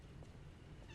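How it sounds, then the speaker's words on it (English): A small cat in the Lies of P video game, giving one short, faint meow against quiet background ambience. "It's a little kitty cat."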